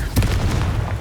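A Confringo blasting curse goes off in Hogwarts Legacy, a short heavy boom with a crackling burst that rolls into low rumbling debris over about a second, with no talk.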